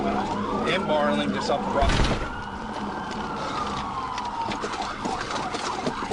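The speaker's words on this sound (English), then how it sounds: "his siren activated, the driver accelerated and fled" Police car siren wailing with rising and falling sweeps during a high-speed dashcam pursuit, loud and close, alongside engine and road noise while a radio voice talks over it.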